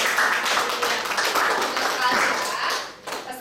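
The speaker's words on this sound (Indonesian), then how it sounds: "Tepuk tangan dulu untuk kelompok 2 tadi." Classroom applause for a student group, students clapping in a room while voices and chatter mix in throughout, fairly loud and close.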